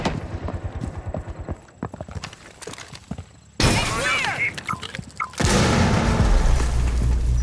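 In a video game, a flashbang grenade goes off as a sudden loud, harsh blast that cuts through busier game noise. A second wave of sustained roaring noise follows soon after.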